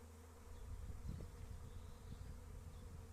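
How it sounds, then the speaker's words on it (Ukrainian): A swarm of bees flying over a village apiary, a steady low buzzing hum that fills the whole stretch, moderately loud and continuous with slight swells, no voices. "Ну це рій, летить рій звідти з тої сторони, з центру села."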